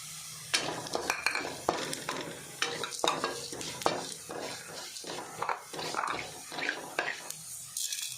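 Coriander powder and masala fry in a pan for a chicken curry: a fairly quiet, continuous run of spoon scrapes and stirring clatter over a light sizzle, with faint talk in the background.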